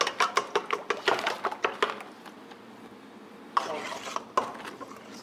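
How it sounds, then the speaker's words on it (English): Egg yolks beaten in a bowl in a kitchen, a quick run of rhythmic clinking taps, then a pause and a few more strokes. "So you have to beat these egg yolks to break them."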